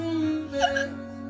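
A single sharp hiccup, close and fairly loud, breaks through a steady background hum in a home setting, followed by quieter stillness.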